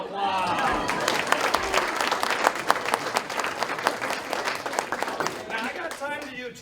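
Audience at a Christmas magic show breaking into lively applause, dense sharp claps building and sustaining for several seconds amid crowd chatter and a speaking voice at the edges.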